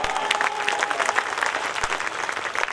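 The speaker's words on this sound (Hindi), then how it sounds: "बजाओ जोरदार ताली।" An audience at a stress-relief gathering in Darbhanga, Bihar breaks into sustained, dense clapping. The applause is close and steady, with no voices heard over it.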